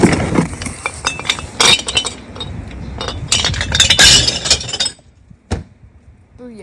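Glass bottles bound for recycling clink and knock together in a rapid, irregular cluster of sharp chinks, loud and close, then thin out to a few isolated taps near the end.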